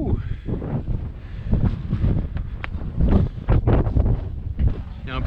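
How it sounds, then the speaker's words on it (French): Wind buffets the microphone in rough gusts at the top of a site in Sicily while a person talks over it, the rumble rising and falling throughout. "Il y a un peu de vent, les gens."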